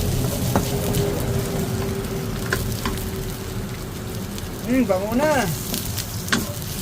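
Garlic and ginger fry in a pan for beef nilaga, giving a loud, continuous sizzle with a few stirring scrapes, and a voice speaks briefly over it.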